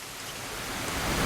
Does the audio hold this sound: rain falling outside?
yes